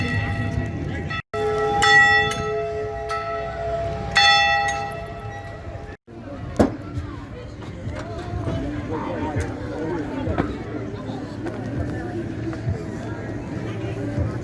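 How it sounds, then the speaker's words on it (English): A giant Liberty-type bell rings from the back of a truck moving down a street at a Mossyrock, Washington freedom rally, a few loud ringing strikes over steady crowd and street noise. "Guy's got a giant, like a Liberty type bell in the back of his truck, ringing it as he goes down the street."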